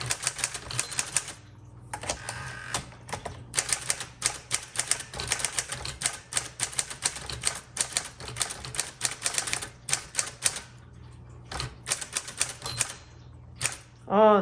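Steady typing on a 1946 Sterling Speedline manual typewriter, close and crisp, with rapid irregular keystrokes clacking in bursts, brief pauses between words, and a carriage return sound near the end.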